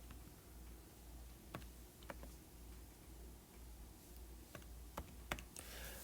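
Light, sparse tapping on a computer keyboard as a class code is entered to join a Google Classroom class, isolated clicks spaced irregularly over a quiet hiss, with no voices.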